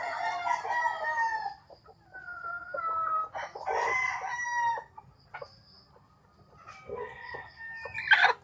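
Chickens cluck and a rooster crows intermittently in a farm coop where a hen is sitting on eggs during breeding, with bird calls close by and rising to a loud crow near the end.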